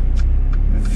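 A Mercedes-Benz GLA 45 AMG idles in sport mode, a loud, close, deep rumbling engine hum with a fast pulsing throb and no voices.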